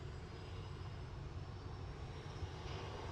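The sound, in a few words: EasyJet plane lining up on runway at Manchester Airport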